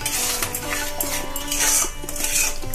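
A lid comes off a pot of freshly cooked mango and shrimp curry with a metallic clink and scrape, close by, over a soft steady sizzle.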